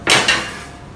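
Metal baking tray of pork jerky set onto an oven rack, two quick metallic clanks close up, the second slightly softer, ringing briefly and fading.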